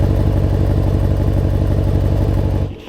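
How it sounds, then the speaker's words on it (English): A Jeep Wrangler with an AWE exhaust, valves closed, idles with a steady, deep, rhythmic burble that stays loud and even before cutting off abruptly near the end. "So here is the new exhaust from AWE, and by the way, the valves are closed right now."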